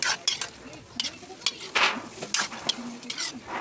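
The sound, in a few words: chicken simmering in spaghetti sauce, cooked over wood fire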